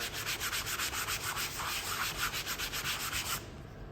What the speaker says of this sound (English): I'm gonna sand just a little bit.